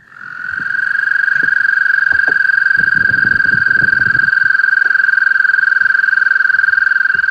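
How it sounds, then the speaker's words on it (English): A dense chorus of American toads trills steadily from a swamp, one long sustained high buzzing tone with overlapping callers, loud and continuous throughout, with some low rustling or handling noise in the middle. "I started to hear even more American toads, all making the same sound from the swamp."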